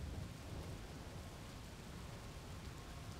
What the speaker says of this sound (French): la saison des orages a commencé et le vent s'est renforcé